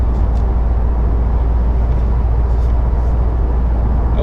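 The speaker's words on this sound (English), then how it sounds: "has that little bit of a deeper sound is because I did not put the resonator back on there" A 2019 Subaru WRX STi with its resonator removed and a larger-diameter mid pipe gives a steady, deep exhaust drone, a continuous low rumble held at a constant level with no voice over it.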